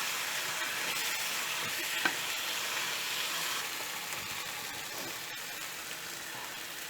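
Beef vindaloo cooking in a vessel gives a steady, even sizzling hiss that carries on throughout, with a faint stir or two and a single small click, close by and without speech.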